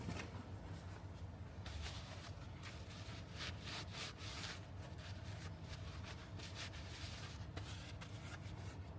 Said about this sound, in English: wipe off all the old grease off of there, clean it up with some brake cleaner